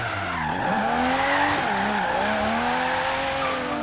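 A car in Forza Horizon 3 drives with a steady engine drone while its tires squeal and skid through the corners. Pitch bends and rises as it goes, loud and continuous and heard alone.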